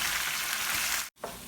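Sliced onions sauté in hot coconut oil in a pan for Ankamaly-style dum biryani, giving a loud, steady close-up sizzle that cuts out briefly, then resumes with a soft scrape.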